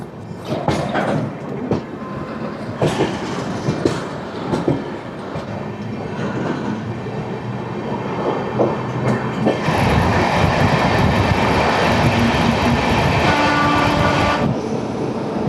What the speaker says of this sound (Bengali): ট্রেনের গতি স্পিড থাকবে প্রায় তেষট্টি কিলোমিটার পার ঘন্টার আশপাশ